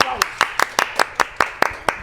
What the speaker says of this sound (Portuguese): Aplausos aqui, aplausos.